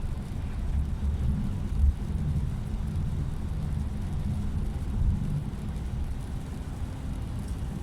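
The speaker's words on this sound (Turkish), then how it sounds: "Yukarılar kupkuru buralara şarıl şırıl yağıyor." Heavy rain pouring down, a steady low rushing roar that fills the scene continuously, with a few deeper swells rising briefly through it and no voices.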